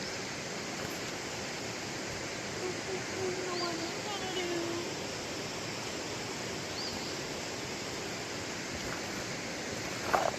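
Creek water runs through old dam ruins at Trough Creek State Park, making a steady broadband rush of moderate loudness throughout, with no talk heard over it.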